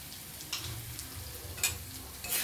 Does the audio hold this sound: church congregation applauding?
no